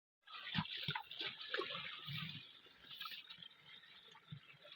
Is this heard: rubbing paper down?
no